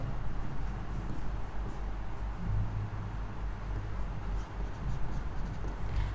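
Pen scratching across paper while working a math problem, soft continuous strokes with small taps and pauses, close and quiet against low room hum.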